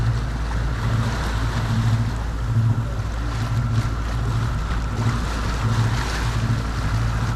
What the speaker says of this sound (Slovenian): Kar vre voda.